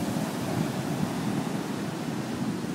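Calming ocean surf on Long Beach Island the morning after an October nor'easter, a steady broadband wash of waves with light wind and no voices.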